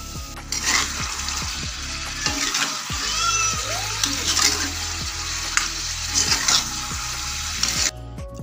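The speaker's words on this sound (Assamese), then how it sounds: "মাংসখিনিও দি দিলোঁ এতিয়া অকণমান ভাজি লৈ।" Meat and potatoes frying in a pan with onions, a steady close sizzle broken by repeated scraping and stirring clanks of a utensil against the pan, with no talking.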